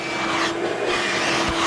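A vacuum cleaner sucks up sawdust from beneath a window in a DIY shed sided with pallet planks, giving a steady, loud, continuous roar with a faint whine that holds throughout.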